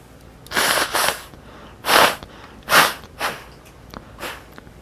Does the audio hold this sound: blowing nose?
yes